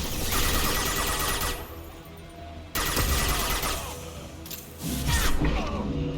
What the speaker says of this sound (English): That's Jeff throwing a flashbang in my butt.